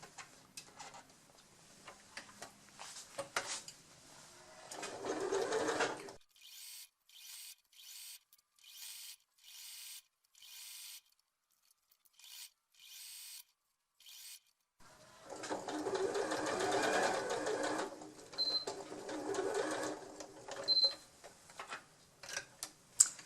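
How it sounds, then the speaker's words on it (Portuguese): A sewing machine stitches a small fabric pouch closed. Faint close whirring bursts run at the start and end, separated by a run of short, evenly spaced clicks and near silence. "Irei começar a costura dando um intervalo aqui na frente para desvirar a bolsinha, e eu começo aqui numa das laterais."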